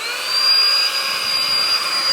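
A small handheld vacuum runs steadily with a smooth, close whirring hum that holds at an even level throughout, with no voices over it.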